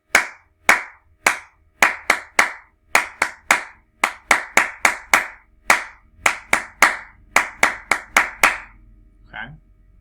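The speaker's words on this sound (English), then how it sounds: "I can also clap it." One person claps out a rhythm pattern from a music exercise, with about two dozen sharp, close hand claps in groups of quick and longer beats, followed by a brief faint voice.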